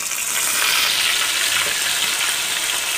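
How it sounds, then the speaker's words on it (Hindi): Onion, garlic and chili paste hitting a hot pan and sizzling loudly, a dense steady hiss that stays close and constant throughout. "अब हम प्याज लहसुन मिर्च की पेस्ट डालेंगे"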